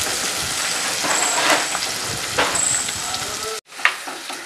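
Onions sauté in a clay pot (manchatti) for a Kerala fish curry with kudampuli. A close, steady sizzle carries occasional stirring scrapes and stops briefly before resuming.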